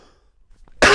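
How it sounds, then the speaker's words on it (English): A single sharp, loud cough bursts out close to the microphone after near silence, ending a casual spoken conversation between hosts. "I'm gonna cough right now."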